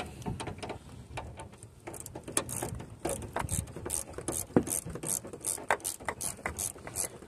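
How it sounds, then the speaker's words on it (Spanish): A ratchet removes a bolt during a radiator replacement on a 2017 Dodge Journey, giving rapid, close, dry pawl clicks in uneven bursts of turning strokes with no talking. "vamos a quitar este tornillo"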